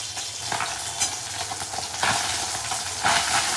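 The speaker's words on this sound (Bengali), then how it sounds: "5 পিস পাবদা মাছ দেখো ভাজা হচ্ছে ফোড়ন দিয়ে।" Five pieces of pabda fish fry in hot oil with whole tempering spices, a steady close sizzle with occasional louder stirring scrapes and no talking.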